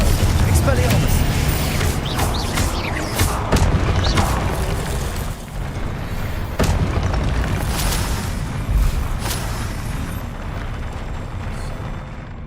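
Confringo blasting spells exploding in Hogwarts Legacy combat, a string of loud booms and bursts mixed with other spell effects, while a player keeps shouting spell names over them.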